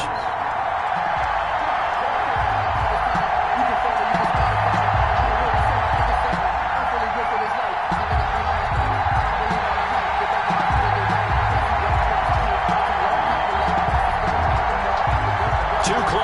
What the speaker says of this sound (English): This crowd is ready as their guys get set to match up between the Buffalo Bills and the Indianapolis Colts.